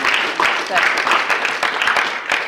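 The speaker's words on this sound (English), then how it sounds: "I will ask that you all give yourselves a round of applause" An audience at a leadership program gives a round of applause, a dense, steady patter of many hands clapping close by for a couple of seconds, with voices mixed in.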